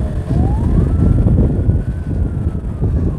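A police patrol car siren wails with a rising, sliding tone over a loud rumbling crowd at a cycling race in Santa Ana Necoxtla, the siren fairly close and persistent while engine and crowd noise churn beneath it.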